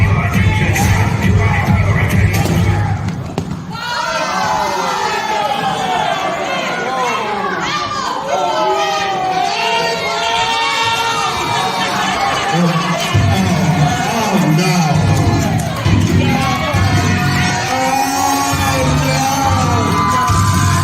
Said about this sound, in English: listen to the reaction of the crowd